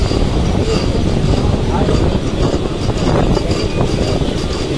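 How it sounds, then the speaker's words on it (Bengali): A passenger train pulls away from Jaipur station on the Jhalda–Purulia line, heard from inside as a loud, continuous rolling rumble with irregular rattles and faint clicks from the wheels. "জয়পুর থেকে ট্রেন ছেড়ে দিল"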